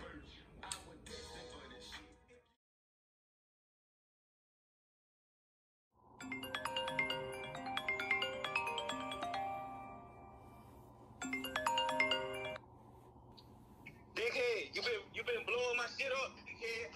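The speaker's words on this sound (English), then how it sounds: "That's the phone" A phone rings in repeated bursts of electronic ringtone tones with gaps of silence between them, and a voice mutters during the pauses and at the end.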